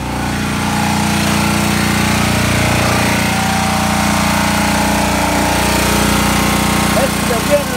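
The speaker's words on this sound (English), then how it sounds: "it's going to be a little noisy because we have our generator going so we can have power" A generator supplying off-grid power runs in a loud, steady engine drone with a constant buzzing hum that holds unchanged the whole time, close by.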